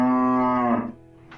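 Fat cattle on a livestock farm: one long, loud, close moo holds steady before tailing off, followed by a short faint sound near the end, with no talk.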